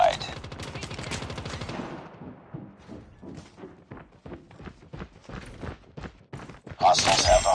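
An automated sentry gun in a Call of Duty multiplayer match, firing in rapid sustained bursts close by, then in sparser volleys among other gunfire, with a louder burst at the end.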